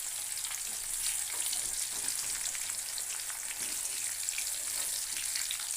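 Young raw pumpkin slices fry in a home kitchen pan, giving a steady soft sizzle with faint crackles throughout, continuous and fairly quiet with no talking.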